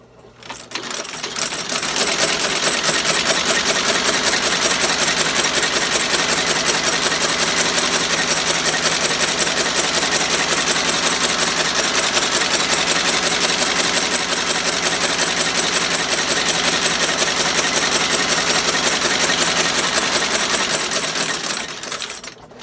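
A sewing machine stitches the sole of an Alden shell cordovan shoe during a restoration, running as a loud, steady, rapid mechanical chatter for about twenty seconds without a break.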